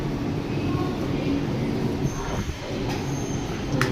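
Riding inside an underground metro train in Chennai, a continuous loud rolling rumble fills the carriage, with faint wheel squeal and a few thin tonal whines over it.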